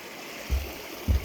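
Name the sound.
flowing stream water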